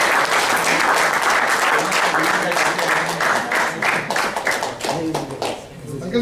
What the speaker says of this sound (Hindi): तो एक बार जोरदार तालियां बजाएं।